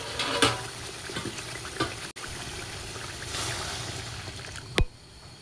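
Water poured into frying spiced masala in a pan for a Bengali puti fish curry with lentil dumplings, giving a steady close sizzle and bubbling with a few sharp clicks of utensils, no voices.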